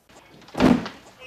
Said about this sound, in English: Swinging door.